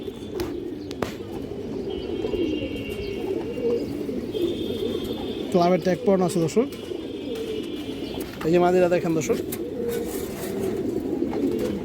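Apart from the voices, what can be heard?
pigeons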